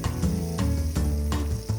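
Chicken pieces fry in a pan with a steady, close sizzle, broken by a few stirring scrapes and clinks over about two seconds.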